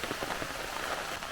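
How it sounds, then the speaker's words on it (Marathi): Steady rain pours over open rice paddy fields, a dense, even hiss of drops striking water and leaves that stays close and constant throughout, with no voices. "मस्त पाऊस पडतोय, मजा येते"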